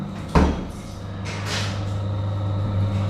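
A wardrobe door in a new hotel room is opened or shut, making one sharp knock followed by a softer sliding rustle, close by against a steady low room hum.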